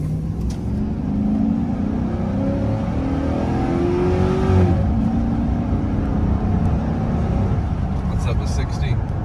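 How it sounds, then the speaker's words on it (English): A 2002 GMC Sierra V8 short-bed pickup accelerating onto a highway, heard from inside the cab as a loud steady engine and road drone with a rising whine as speed builds. "So we'll jump up here on the highway and get this thing up to speed."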